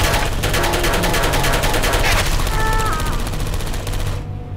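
Turrets in Portal 2 fire in a loud, continuous rapid machine-gun stream that runs for about four seconds, with a brief electronic tone near the end, then stops abruptly.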